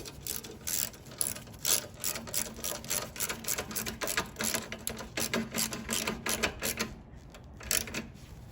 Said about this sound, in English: Again, I'm just using a 1/4" ratchet.